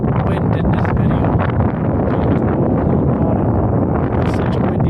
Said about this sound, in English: weird wind gusts are just heavy right now, so you're gonna hear a lot of wind in this video